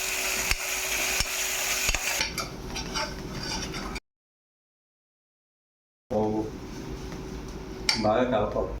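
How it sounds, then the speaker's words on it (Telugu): Mutton biryani mixture stirred in a pot, with scraping spoon and pan clatter under voices, a long silent gap midway, then more stirring. "బాగా కలపాలి."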